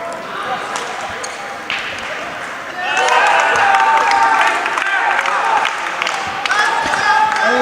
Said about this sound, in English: The crowd, the team chant has come out.